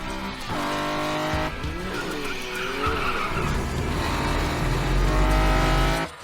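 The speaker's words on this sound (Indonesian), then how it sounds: "drift tadi sempurna, di tikungan, malah nggak melambat." An old car drifts hard around a corner, its tires squealing in a long continuous skid over a loud roaring engine, close and sustained for several seconds with no talking.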